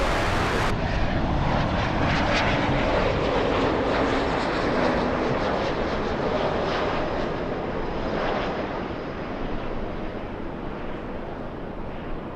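Airliner landing on runway 24 right at Los Angeles International Airport (LAX), a steady loud jet roar that holds for the whole stretch and eases slightly toward the end, with no voices.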